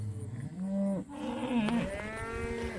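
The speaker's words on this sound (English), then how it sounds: "She's probably stuck in the middle of all these cows." Cattle in a cow herd moo loudly and close by, two long drawn-out bellows one after another with a low rumbling start, heard alone without talk.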